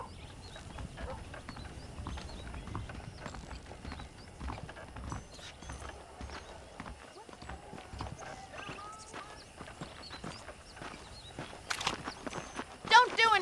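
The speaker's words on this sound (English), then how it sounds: "The horses are saddled up over here." Steady clip-clop of horse hooves walking at an even pace in Red Dead Redemption, with occasional snorts and light ambient noise under intermittent talking.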